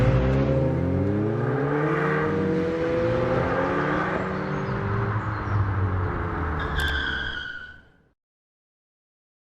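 A 2021 Fiat 500 Hybrid engine pulls steadily under acceleration, its rising hum heard up close from inside the car before it cuts away to silence.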